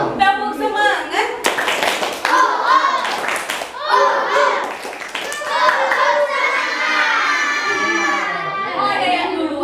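Homeschool children chant in unison and clap along in the rhythmic 'tepuk semangat' clapping routine, their voices loud and close between sharp bursts of hand claps.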